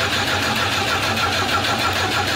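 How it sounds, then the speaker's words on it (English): A Volvo Amazon's B20 engine turns over during a restoration, a steady, loud, close-up mechanical churn of cranking and running with no talk over it. "Sari, start this engine."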